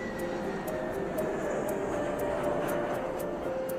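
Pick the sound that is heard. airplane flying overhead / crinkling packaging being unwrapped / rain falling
airplane flying overhead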